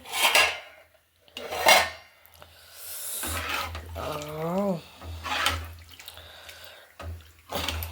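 A spoon stirs a potato curry in a cooking pot in a home kitchen, making scraping clinks and metallic knocks in short bursts, with a voice speaking briefly between them.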